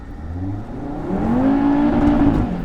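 Audi RS3 with a modified exhaust, about 400 horsepower, accelerating hard with rising engine pitch through the gear, loud and close from inside the car, a strong continuous rasp building in intensity.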